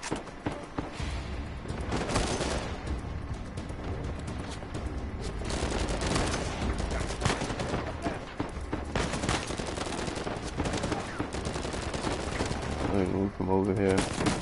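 Rapid, sustained gunfire from a firefight in the video game Uncharted 4, dense and loud throughout, with bursts and single shots layered over each other and a brief musical sting near the end.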